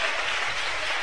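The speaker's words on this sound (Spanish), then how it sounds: "Dale un aplauso a Cristo" Church congregation clapping in praise during a sermon, a short burst of dense, even applause filling the space, loud and continuous with no pause.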